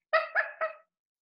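Dog giving three quick, bright barks close by, clear and tonal with a happy, yippy lift, then silence.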